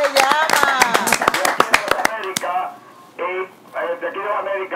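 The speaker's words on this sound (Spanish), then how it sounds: "Un aplauso a Chespirito," Applause for a caller on a Spanish-language radio programme: a quick run of sharp claps over the first two seconds, then someone speaking.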